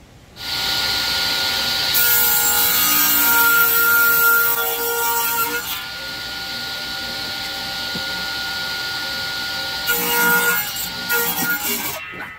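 A saw cuts through wood during repair of a hall tree, grinding steadily and loudly for several seconds with a brief dip in the middle before the cut ends.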